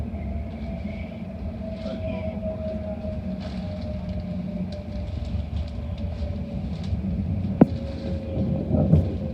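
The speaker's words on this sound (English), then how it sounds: "GWR service approaching Paddington" A GWR train approaching London Paddington rumbles low and steady with a faint whining tone above it, a sharp metallic click near the end, and no voices.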